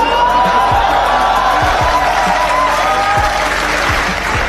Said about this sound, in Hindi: आप तालियों से अंदाजा लगा लो कितनी जानदार होगी।